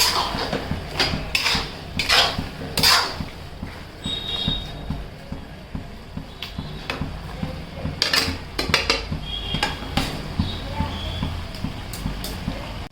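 Carrot halwa is stirred and sautéed in a pan with repeated scraping and clinks of a spoon against metal, close and uneven, with someone speaking at times.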